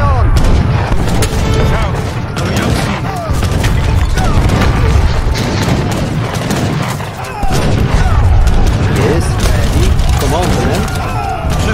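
Great bombards and cannons keep firing during a siege of Malta in the Age of Empires III campaign, with repeated loud booms and gunfire cracks over a continuous battle din while voices speak.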